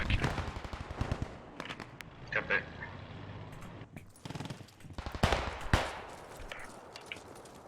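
Gunfire in the World War II shooter Post Scriptum, with bursts and single cracks scattered through a noisy battle mix while a voice talks over it.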